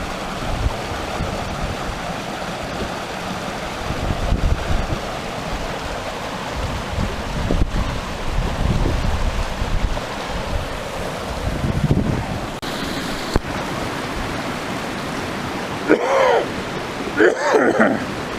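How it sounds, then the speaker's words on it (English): A creek waterfall roars loudly and continuously up close, a steady broad rush of falling water with wind buffeting the microphone and brief louder splashes. "it's so loud here standing next to the waterfalls."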